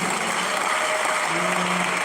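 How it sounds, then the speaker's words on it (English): Applause from a conference audience forms a brief, steady wash of clapping that lasts about two seconds and sounds fairly distant. "Can you give him a round of applause?"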